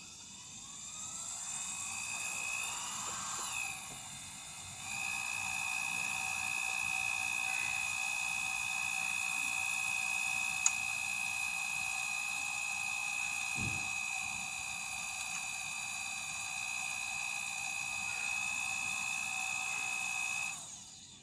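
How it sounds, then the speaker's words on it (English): An alternator test rig runs with a steady, faint whine and a layered electrical hum, holding constant for about twenty seconds after a quieter start-up. "Now we'll start up the alternator."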